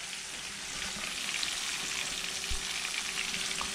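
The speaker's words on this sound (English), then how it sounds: "She's cooking now." Food fries in a pan at a fishing camp, giving a steady close sizzle with faint crackles and a soft thump partway through.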